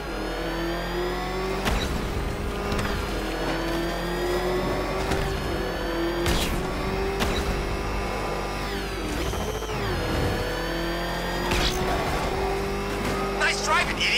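A car drives at speed in the video game Batman Arkham Knight, its engine droning and revving steadily throughout with sharper bursts and tire noise, while voices talk over it.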